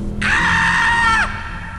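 A woman's high, sustained horror-style scream used as a sound effect in a spooky story, one loud held cry lasting about a second that ends with a falling tail, with no talking.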